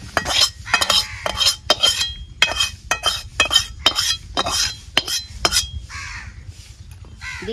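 A pot of prawn malai curry lifted off a kitchen stove, with sharp metallic clinks and scrapes of a utensil against the pan in quick irregular bursts, close and clear, with no talking.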